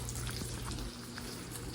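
Sausage topped with cheese sizzles in a pan while breakfast sliders on Hawaiian bread are being made, a soft steady frying crackle heard briefly and fairly faint.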